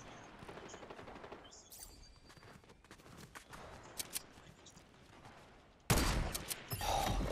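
Rapid bursts of gunfire in the Fortnite video game during sniper play, a steady crackling fusillade of shots that jumps to a louder, closer volley near the end.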